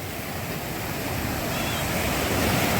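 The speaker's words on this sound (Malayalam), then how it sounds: "ആ ഒരു തിക്കോടി ബീച്ചിലാണ് നിലവിൽ നമ്മളുള്ളത്" Sea waves at Thikkodi beach in the evening: a continuous loud wash of surf with broad, steady rushing noise and some wind buffeting, no distinct individual breaks.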